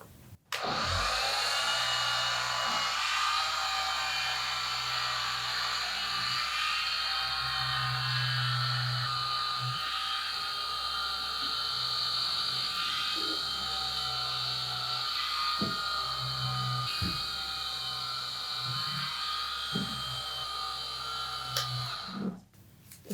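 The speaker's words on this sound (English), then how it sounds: "So just put your sander just before the end." An electric sander whines steadily over wet felted wool laid out for clothing, a continuous close high-pitched motor hum with small dips as it moves across the fibres, ending with a click as it stops.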